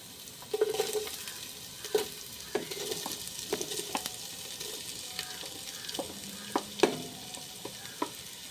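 Sliced onion and green chillies sauté in a pan for a Palakkad-style ash gourd chicken curry, a steady close sizzle broken by scattered clicks and scrapes of stirring.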